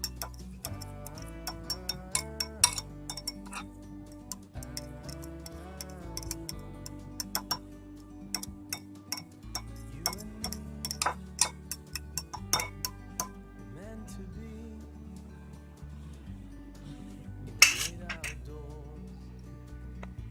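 Raita with black pepper being stirred in a bowl, a spoon ticking and clinking steadily against the sides in a quick, close, fairly quiet rhythm, with faint speech at moments.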